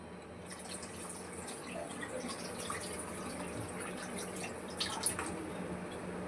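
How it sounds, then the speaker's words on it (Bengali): Water is poured into a cooking pot for a papda fish curry. The pouring gives a faint, steady trickling splash with a few brighter drips near the end, and no one talks. "পরিমাণ মতন আমি জল দিয়ে দিলাম"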